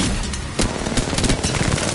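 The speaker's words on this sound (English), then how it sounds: "They're shooting us from all the way over there." Automatic weapon fire in the video game Apex Legends, rapid bursts of shots crackling densely over a busy game soundscape, loud and close with sharp repeated cracks.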